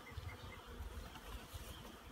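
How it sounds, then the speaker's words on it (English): Honeybees of mixed subfamilies hum around an open hive outdoors, a faint continuous low drone with soft flickers as individual bees pass. "So you got a mixture of bees in here with different subfamilies"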